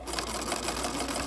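A sewing machine stitches lace onto a pillowcase, running steadily with a rapid, even mechanical whir close by for the whole moment, with no talk.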